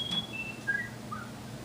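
A man whistles in imitation of meadowlark song, a few thin descending whistled notes, fairly faint over a quiet low room hum with no talking.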